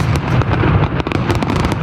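Dense, continuous fireworks bursting in a rapid barrage of overlapping pops and booms, loud and close throughout with no pause, as on a Fourth of July night.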